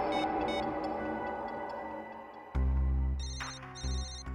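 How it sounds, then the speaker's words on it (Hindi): Phone ringing in a tense indoor scene, starting with faint electronic beeping tones, then a louder close ringtone with repeated bright chirping bursts over a low drone. "रिंग यहीं पर बज रही है कहीं"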